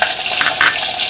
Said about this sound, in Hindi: अब डाल दूंगी अपने में साबुत लहसुन, हरी मिर्ची